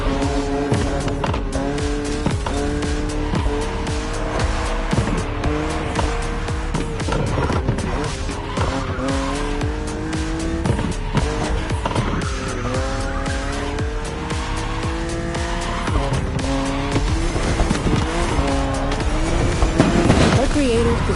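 BMW M4 in The Crew Motorfest driving hard, engine revving through gear changes with tire squeal and skids, loud and continuous, with a voice talking over it.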